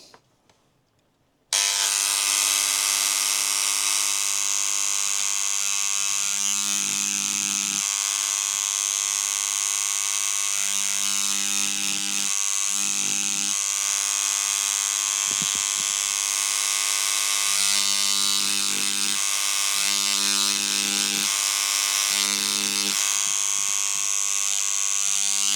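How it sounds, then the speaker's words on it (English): Mechanical hammer handpiece tapping a sterling silver ring's bezel down around a stone, a loud, steady high buzz that runs for over twenty seconds with a few brief pauses and dips. "we're going to hammer the edges of that around that stone"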